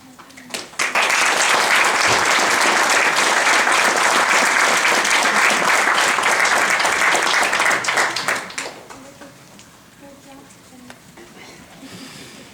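An audience in a congregation hall breaks into loud sustained applause after a talk, dense clapping for about seven seconds that then fades to a quieter murmur.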